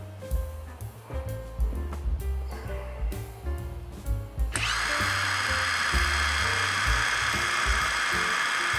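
A Yasuka YIW 500CB cordless brushless impact wrench is handled with a few clicks and knocks, then spins freely at speed 2 with a sharp, high, steady whine held until the end.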